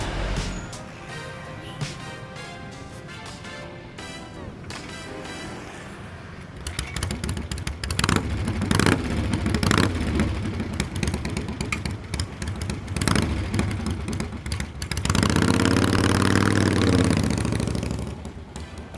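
Vintage Harley-Davidson Iron Head custom flat tracker motorcycle engine starts out low under music-like tones, then grows louder and rougher with revving bursts from about seven seconds, ending in a sustained loud roar.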